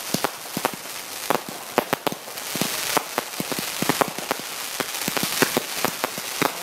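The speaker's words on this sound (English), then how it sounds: "we're also in the area where the fireworks are going to be landing" Fireworks burst at an outdoor display in Burgess Hill, heard from the area where debris lands: a rapid, irregular barrage of sharp, close crackling pops and bangs.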